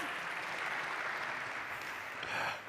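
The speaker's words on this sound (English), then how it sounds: "Clap. Let's clap." Audience at a tech conference session clapping together, a dense, even wash of applause at moderate distance, steady throughout with no voices standing out.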